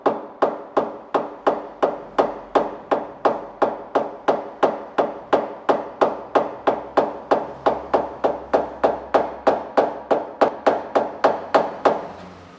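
Steady run of about thirty sharp, evenly spaced taps on a car body panel during paintless dent repair, struck with a wooden tool, loud and close, each knock ringing briefly before the next, ending in a faint tail.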